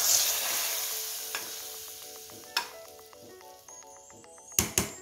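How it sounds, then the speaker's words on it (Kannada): Spice tempering hitting hot oil for a sprouted green gram and colocasia stem curry, a bright hiss that slowly fades, broken by a few sharp metallic taps and knocks of a spoon on the pan. "ಒಗ್ಗರಣೆ ಹಾಕ್ತಾ ಇದ್ದೆ ನೋಡಿ"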